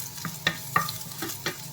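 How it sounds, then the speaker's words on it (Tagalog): Garlic sautéed in a pan with browned meat gives off a soft sizzle, broken by sharp scrapes and clinks of a utensil stirring at irregular intervals, close by with no speech. "So, ngayon, igisa ko na yung aking bawang."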